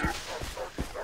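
Dog barks and yips in a Far Cry video game, a few short close calls over a busy game background with some talk.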